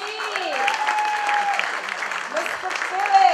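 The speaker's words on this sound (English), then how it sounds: "let's give this gentleman the round of applause that he truly deserves" An audience applauds at a St. Lucia business awards ceremony, steady clapping that swells toward the end while a voice speaks over it.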